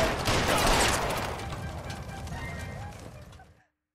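Bursts of rapid gunfire as people open fire during a police standoff, a dense crackling volley that starts loud and close, tapers slightly, then cuts off abruptly near the end, with voices mixed into the din.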